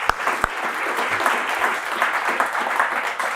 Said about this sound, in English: So if we can give them a quick round of applause